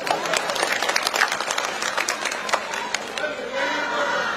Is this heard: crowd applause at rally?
yes